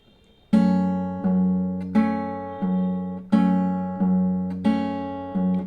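Fingerpicked acoustic guitar plays the opening bars of a song's chorus, with bass notes and chords plucked in a steady rhythm, each attack ringing and decaying before the next, clear and close.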